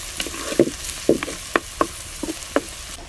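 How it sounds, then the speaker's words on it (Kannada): Onion pieces frying in a pan, with soft sizzling and several stirring scrapes and clinks at a loose, irregular rhythm, close by. "ಸ್ವಲ್ಪ ಈರುಳ್ಳಿಯನ್ನು ಹುರಿದುಕೊಳ್ಳುವ, ಸ್ವಲ್ಪ ಕಲರ್ ಬರಲಿ"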